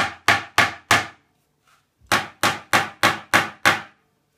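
A hammer taps a threaded insert into a board for skid plates, four sharp strikes, a pause, then six more evenly spaced knocks, close and crisp.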